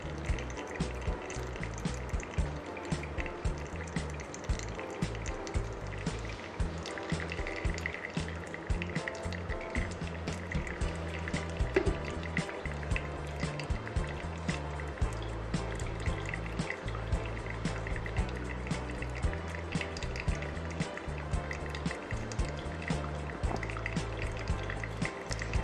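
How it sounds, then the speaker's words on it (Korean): Hot water poured over coffee grounds for a home pour-over brew, a continuous soft trickle and splash that holds steady throughout, close by and alone. "50g의 물을 부어줍니다"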